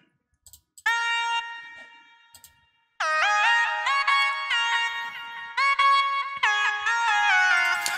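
A bright trance synth lead plays a sustained note, pauses, then a stepping melodic phrase, soaked in lush reverb with wide echoing delay trails.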